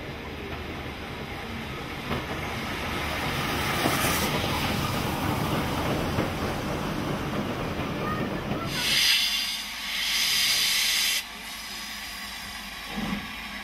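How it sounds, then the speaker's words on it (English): Steam locomotive 45231 Sherwood Forester hauling the Cathedrals Express rail tour at speed, a loud continuous roar of rushing exhaust and rolling coaches that gives way to a lighter hiss and wind as it passes. "45231, seen here at speed, hauling the Cathedrals Express rail tour"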